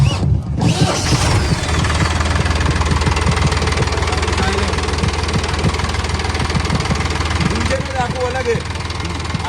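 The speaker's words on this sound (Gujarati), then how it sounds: "અને 3 સિલિન્ડર એન્જિનનો અવાજ" A new Mahindra 475 Yuvo Tech Plus 42 hp three-cylinder tractor engine idles close by with a steady, knocking low rumble and vibration, with voices over it throughout after a brief pause near the start.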